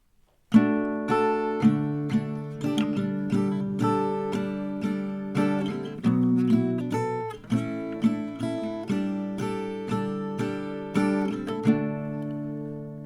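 An acoustic guitar strums chords in an uneven rhythm, each stroke ringing out clearly, played alone with no voices for about twelve seconds.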